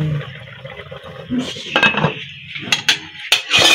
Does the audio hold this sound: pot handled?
yes